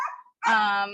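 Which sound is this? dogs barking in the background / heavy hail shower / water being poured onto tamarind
dogs barking in the background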